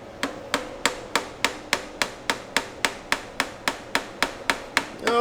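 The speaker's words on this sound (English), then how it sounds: "So I'm just kind of whacking at that, and hopefully that'll kind of get it popped off." Pry bar struck repeatedly to pop a VW Jetta alternator off its bracket under the hood, about fifteen sharp metallic hammer blows at a steady rhythm, loud and close, with no talking.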